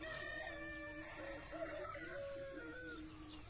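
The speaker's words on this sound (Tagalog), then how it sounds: "Mga manok natin, nandun na." Several chickens cluck and a rooster crows at a rural fishpond, steady and moderately close, over a constant background hiss.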